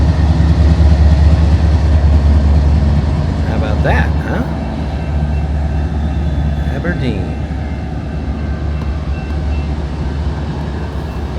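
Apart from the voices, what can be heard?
train passing through town of Aberdeen, South Dakota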